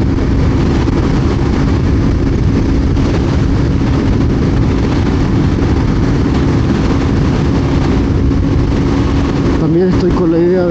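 KTM Duke 200 NG motorcycle riding in sixth gear at about 8000 rpm, a steady loud engine drone with constant wind and road roar throughout, a steady tone holding level until a brief shift near the end.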